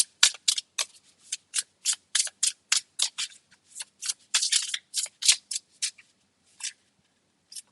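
Tarot cards being shuffled by hand, a rapid run of crisp riffling snaps in quick bursts, close and clear with no talking.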